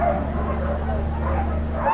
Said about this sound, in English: Look at these puppies. They're Alaskan Huskies.